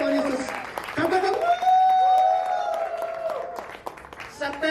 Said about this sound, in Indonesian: Kita tepuk tangannya kencang buat Tuhan Yesus